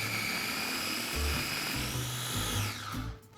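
A blender whirs steadily while blending garlic butter for garlic bread, loud and close, with the motor pitch dropping near the end as it slows.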